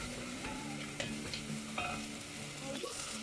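Onions sizzle steadily in a pan on the stove while a utensil scrapes and stirs them in short bursts, close up, with no talking.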